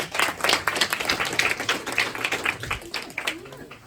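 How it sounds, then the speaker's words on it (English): Audience clapping fills a conference room during a community safety meeting, a dense patter of hands lasting a few seconds with voices talking over it. "Give SOS another round of applause"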